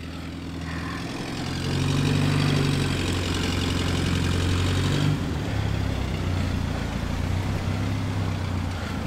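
A Renault 4CV with a three-speed gearbox runs in reverse on a snowy day, its small engine humming steadily nearby, swelling slightly as it pulls back and easing off partway through.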